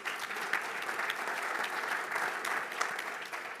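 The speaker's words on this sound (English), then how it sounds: "Round of applause." Applause from an audience at a startup pitch event, a steady sustained wash of clapping lasting several seconds with no voices over it.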